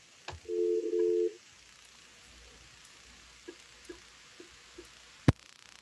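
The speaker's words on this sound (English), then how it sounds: "Angela, let me see if I can get Miss Bell on the phone." A telephone tone sounds on a call placed during an online meeting. It is a single steady tone lasting about a second, followed by a few faint, sparse clicks in a quiet room, with no talking.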